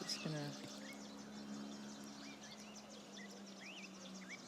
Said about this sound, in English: not going to talk too much so you can listen to the birds